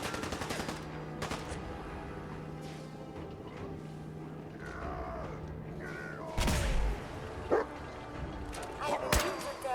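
Gunfire in the video game Fallout 4, survival mode: scattered sharp shots and bursts, fairly loud against a steady game background, with a companion character joining the shooting.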